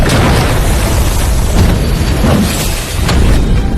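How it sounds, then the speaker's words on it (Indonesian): A loud, sustained magical blast from a donghua fantasy battle, with deep booming rumbles and crackling bursts rolling continuously throughout. "Ia pun nampaknya akan meledakkan kekuatan sihirnya lagi."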